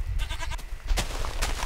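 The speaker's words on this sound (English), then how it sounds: "It's a goat." A goat bleats in the Minecraft video game, a few short nasal calls over a steady low game background, fairly close and moderately loud.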